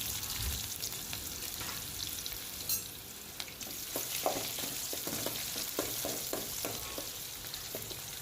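Whole spices and chopped onion roast in hot oil with a steady, close sizzle, and a spoon clinks and scrapes the pan now and then. No one speaks.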